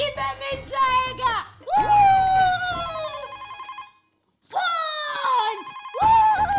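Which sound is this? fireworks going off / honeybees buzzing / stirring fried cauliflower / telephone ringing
telephone ringing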